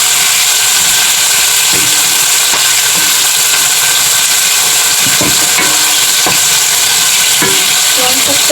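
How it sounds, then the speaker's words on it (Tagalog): Ingredients for sotanghon glass-noodle dish sauté in a pan, a loud, continuous sizzling hiss with a few soft stirring knocks scattered through it and no talk. "Sasangkot ko muna."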